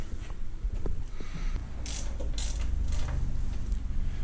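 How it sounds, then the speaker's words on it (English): A hand ratchet tightens bolts on a Harley Street Glide motorcycle, giving close mechanical clicking and creaking in short bursts with a few louder metallic strokes, steady throughout. "Those 4 bolts are in. Let's tighten them down."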